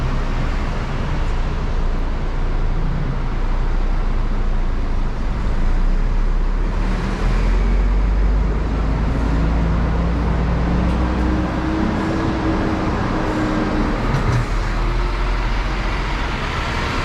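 Heavy traffic and idling buses at the TBS bus terminal in Malaysia, a steady low engine rumble with passing vehicles and occasional brake hisses, continuous and close throughout.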